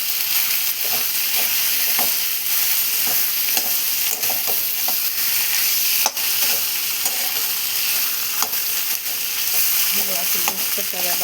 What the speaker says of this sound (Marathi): बटाटे टाकल्याच्यानंतर असं पुन्हा लसणाच्या फ्राय टाकून असं सगळं मिक्स करून घेणार आहे.